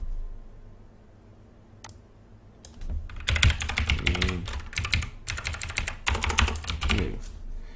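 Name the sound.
typing on a computer keyboard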